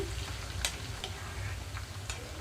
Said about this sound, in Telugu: బెండకాయ ముక్కలు కొంచెం జిగురుగా ఉంటుంది కాబట్టి ఆ జిగురు తగ్గే వరకు వేయించుకోవాలి